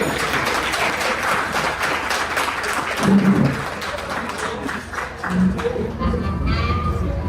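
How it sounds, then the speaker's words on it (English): Audience applause at a business event welcoming a speaker, steady mid-level clapping throughout with brief voices rising through it. "So I want everybody to give a nice round of applause to Jonelle Inn"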